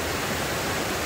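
Forestport Feeder water from the Erie Canal pours into the LansingKill in Boonville Gorge, a loud, dense, continuous rushing roar of falling water close by with no other sounds.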